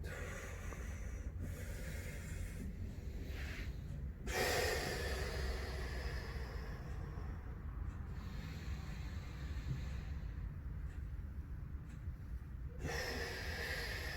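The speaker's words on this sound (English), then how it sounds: "Still focusing on our breathing." Slow, deep breaths during a quadratus lumborum stretch, drawn-in and released in long soft hissing cycles, close and quiet with no talking.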